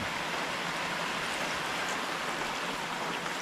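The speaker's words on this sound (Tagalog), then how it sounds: "Lagyan natin ng tubig." Water is poured into a pan of sautéed wild mushrooms with moringa, giving a steady, even splashing hiss that lasts throughout at moderate loudness, with no talking.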